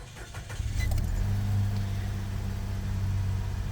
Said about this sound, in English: And then if we start the car up,